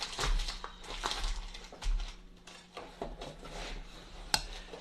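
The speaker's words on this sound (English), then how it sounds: "Now, let's get this spoon cleaned off." A spoon scraped around a bowl of pimento cheese made with mayonnaise and cheese, giving a run of close, soft scraping and clinking strokes with short pauses between them.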